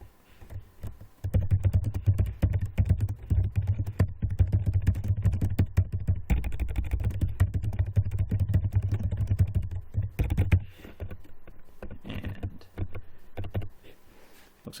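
Steady, busy typing on a computer keyboard while a code comment is entered, dense clicking keystrokes running for about nine seconds before thinning into a few scattered taps near the end.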